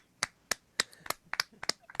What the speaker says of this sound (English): I think we need to do a round of applause for Oliver and Callie.